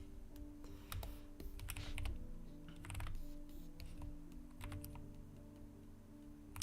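Quick, light keystrokes clatter steadily on a computer keyboard, close and fairly quiet, with no voices present.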